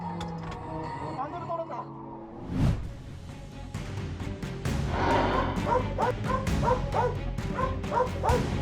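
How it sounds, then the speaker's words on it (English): Several dogs in a pack barking at approaching lions near a residential area, overlapping yips, whimpers and sharp barks close by, growing busier and more rapid toward the end. "a pack of dogs stood their ground to protect the home"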